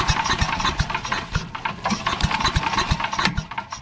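A Craftsman 8.5 hp wood chipper engine running on starting fluid sputters and chugs in a rapid, uneven rhythm as it tries to catch, loud and close throughout.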